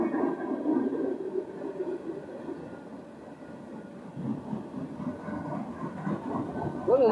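Slow freight train made up of tanker cars rolling past, a steady low rumble and wheel noise throughout with a faint squeal near the end.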